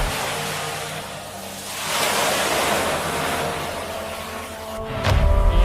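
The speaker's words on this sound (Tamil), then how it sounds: "கடல் குறுக்கிட்டது." Sea waves roll and crash in a continuous surf roar, a steady broadband wash with a louder swell near the end, used as a sound effect behind a story about the sea.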